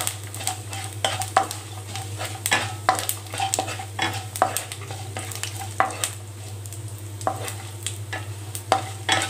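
About ten cashews fry in a pan for vegetable pulao, giving a soft sizzle under repeated scraping and clinking stirs at an irregular rhythm, close and without talk.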